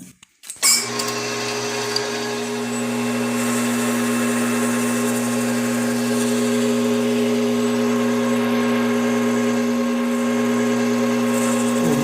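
A Bv20l metal lathe machining a Tecnil nylon part, a loud steady motor whine with strong sustained tones that starts abruptly after a brief thump and runs on unchanged, with no talking.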